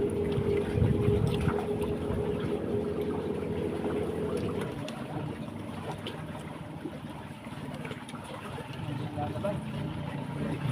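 A boat speeds across the sea off a beach, its engine drone and rushing water steady and fairly loud throughout, with wind buffeting the microphone and voices chatting now and then.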